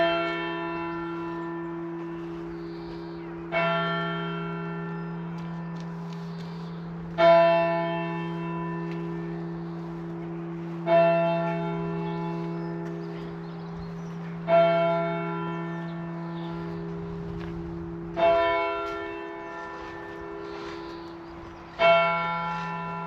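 Church bells of St Andrew's Church in Ashburton ringing out in a slow, even sequence, each strike blooming and decaying before the next, heard from outside at moderate distance with no voices.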